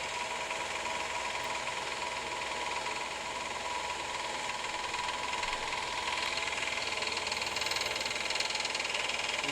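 A car engine in the Police Simulator video game runs rough, with a steady, dense, buzzing drone and a rapid knocking texture throughout, loud and continuous, no talk.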